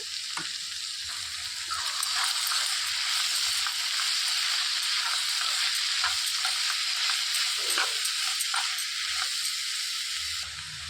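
Ridge gourd and dried prawn curry fries in a pan while it is mixed, a constant loud sizzle broken by frequent scraping spoon strokes, with no talking.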